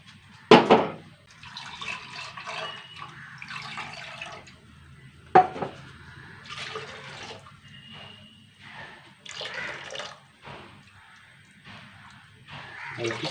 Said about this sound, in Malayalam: മിക്സി കഴുകാം.